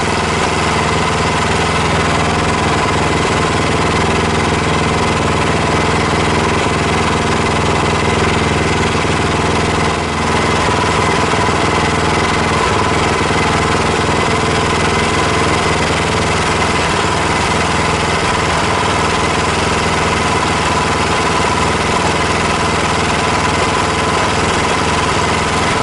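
A Predator Hemi 212 small gasoline engine with a Tillotson fuel injection carburetor runs steadily and loudly for the whole stretch, a constant buzzing drone with faint vibration and no speech.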